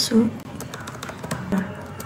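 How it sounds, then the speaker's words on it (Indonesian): A few scattered keyboard taps under a person talking, brief clicks spread across a couple of seconds. "lalu saya akan mengetik juga"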